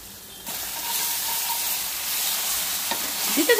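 Spaghetti stir-fry sizzles loudly in a pan as it is stirred and chili garlic sauce and other sauces are poured in, a steady close hiss that rises with scraping near the end.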